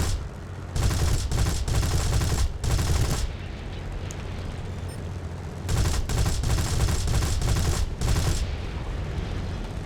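Spitfire Mk IX cannons in the flight combat game War Thunder fire in several loud sustained bursts, rapid rattling volleys separated by short pauses with steady engine drone underneath.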